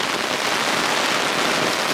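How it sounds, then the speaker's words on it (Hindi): Heavy rain pours steadily at a water villa in the Maldives, a dense, loud, unbroken hiss of drops drumming on surfaces with no voices over it. "बारिश हो गई है इतनी तेज"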